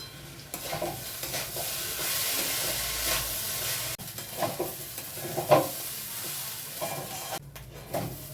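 Rice with a few raisins sizzles in a hot pan for basanti pulao, a steady frying hiss broken by repeated scraping strokes of a spoon stirring the grains, close and clear with no talking.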